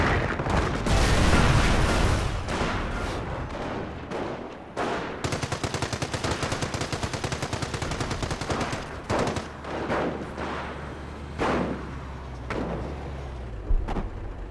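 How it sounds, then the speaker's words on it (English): Company of Heroes battle: dense artillery barrage and rapid machine gun bursts, loud booms and rattling fire sustained throughout, with no talking. "Artillery barrage coming down on the MG."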